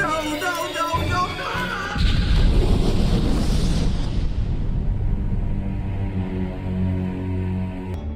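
A bomb goes off in a war cartoon scene, a loud booming blast with a long crashing, rumbling tail that slowly fades, following a brief stretch of musical sound.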